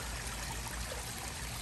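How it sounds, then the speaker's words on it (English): Pond water spilling over a small backyard waterfall, a steady, even wash of splashing and trickling that stays constant throughout, fairly faint and close, with no voices. "Right now I've just got it draining over the waterfall."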